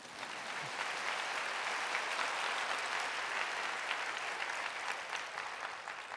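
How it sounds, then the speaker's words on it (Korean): A church congregation applauds during a Korean missionary's sermon, a full, steady round of clapping from many people that carries evenly for several seconds without talk over it. "박수가 안 나옵니까?"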